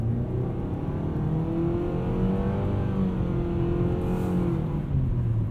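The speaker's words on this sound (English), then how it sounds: "that is one positive I've found with the CVT is actually pretty quick off the line" A 2020 Nissan Sentra SR with a CVT pulls away hard from a standstill, its engine drone steady and close from inside the cabin, pitch climbing smoothly without gear-shift breaks as the car gathers speed.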